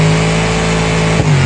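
A Mercedes-Benz car revving in the BeamNG driving game, a loud, steady engine drone held close for a moment with a brief dip near the end.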